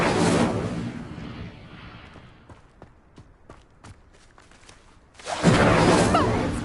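An Incendio fire spell cast in Hogwarts Legacy at a pyre, a loud roaring whoosh of flame that fades into scattered light ticks and taps, then another strong fiery burst.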